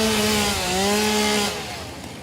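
A chainsaw cuts trees in the video game Satisfactory, a loud steady buzzing whine that dips and rises in pitch as it bites, then trails off, with no talking.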